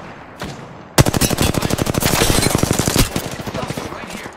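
Loud, rapid automatic gunfire in the Apex Legends video game: a single crack, then a dense, steady stream of shots hammering on for several seconds.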